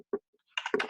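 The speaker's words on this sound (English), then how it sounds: "All I'm doing is typing." A few sharp keyboard clicks, then a denser run of keystrokes typed on a computer, close and fairly quiet with short gaps between taps.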